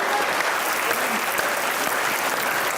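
A studio audience at a televised comedy interview show claps in steady, dense applause for a few seconds, fairly close and with no talk over it.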